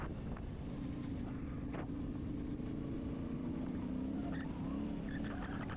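Yamaha Ténéré Rally 2025 on Heidenau tyres ridden at a steady normal pace, its engine a continuous low drone half buried under heavy wind buffeting on the microphone.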